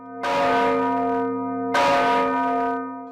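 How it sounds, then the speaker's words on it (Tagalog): A large antique church bell struck twice, each deep, booming clang followed by a rich, sustained hum that carries into the next strike. "Ang tunog nito naririnig hanggang 8 kilometro ang layo"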